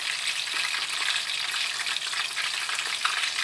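Pointed gourd (potol) frying in a pan, a steady bright sizzle of hot oil that continues without breaks and without any voices.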